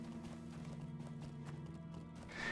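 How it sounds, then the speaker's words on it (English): A horse ridden in Lord of the Rings Online makes soft, steady hoofbeat clip-clops under a low droning game ambience, faint and even throughout. "I'm riding a horse"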